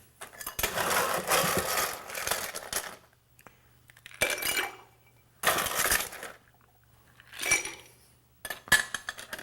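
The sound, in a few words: ice added to cocktail glass and stirred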